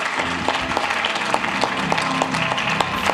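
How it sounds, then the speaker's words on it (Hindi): An audience claps at an interview event with Baba Ramdev. The applause is steady and dense, with many individual claps close together throughout. "जोरदार तालियां"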